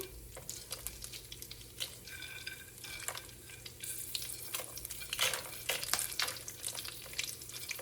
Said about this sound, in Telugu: ఇవన్నీ వేసి వీటిని మంచిగా ఫ్రై అవ్వనిద్దాం